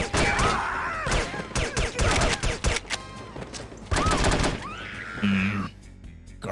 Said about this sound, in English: Ah, they're already shooting.